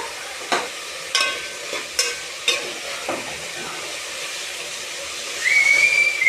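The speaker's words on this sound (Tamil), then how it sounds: "எண்ணெயிலே நல்லா வதங்கட்டும்" Snake gourd sautés in oil in a pan, with a soft frying hiss under several sharp spatula taps early on; a steady, high whistling tone rises near the end.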